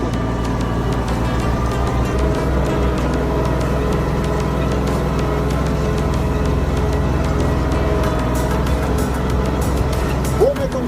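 A Kubota 33 tractor pulls a Kverneland implement, its engine running in a steady, loud drone at constant load. There are no pauses, and a faint voice briefly rises near the end.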